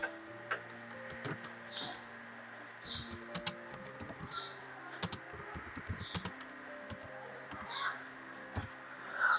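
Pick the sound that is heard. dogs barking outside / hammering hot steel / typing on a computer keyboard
typing on a computer keyboard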